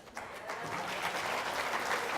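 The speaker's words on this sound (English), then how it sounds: "And let's give a round of applause for Bioadhesive Alliance." A crowd at a social entrepreneurship competition applauds presenters from Greensboro, North Carolina, in steady, sustained clapping that builds slightly and continues evenly throughout without talk.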